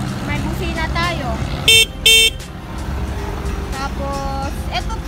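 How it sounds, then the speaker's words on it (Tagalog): Two short, loud horn beeps from a Honda The Hunk V2 motorcycle close by, in quick succession, over a steady engine idle with a voice talking around them. "May busina tayo."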